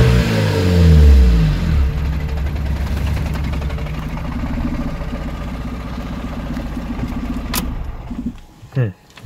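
A 1998 car engine cranks hard and loud, then catches and runs at a rough, uneven idle during a compression check, with the engine cutting off near the end.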